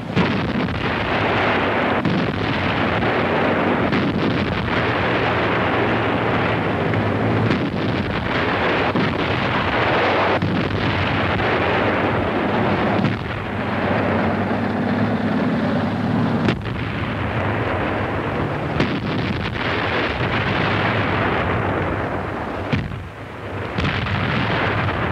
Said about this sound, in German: Der Weg führt an schweren deutschen Batterien vorüber, die seit dem Morgengrauen starke Grenzbefestigungen sturmreif schießen.